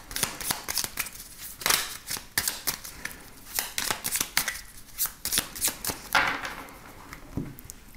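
A deck of cards is shuffled and cut during a card reading, producing close riffling bursts and sharp snaps and slaps in an irregular rhythm.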